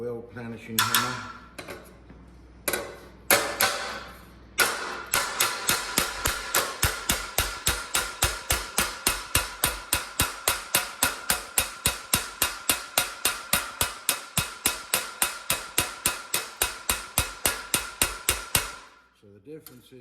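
A higher-crowned weld planishing hammer beats a welded metal panel, opening with a few scattered clanks, then settling into a long, even stream of bright metallic taps.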